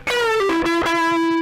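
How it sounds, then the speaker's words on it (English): Bass guitar played through a Joyo bass distortion pedal, a few sustained fuzzy notes with gritty harmonics ringing out loud and close, with no talking. "this is specifically designed to be a bass distortion"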